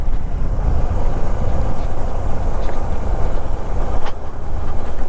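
A Hero Xpulse 200 4V motorcycle rides along a village side road, its engine a steady low drone buried in loud, continuous wind rush across the microphone for the whole stretch.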